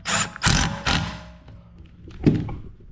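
A hand ratchet snugging down bolts on a Ford F150 suspension, a few close bursts of rapid clicking followed by a pause and one more short ratcheting burst with a metallic clunk.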